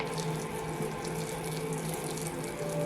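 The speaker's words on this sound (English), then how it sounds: "You have to water the pot till it comes down." A bonsai pot grown from a branch cutting is watered thoroughly with a continuous, close splashing stream of water, steady and uninterrupted throughout with no voices.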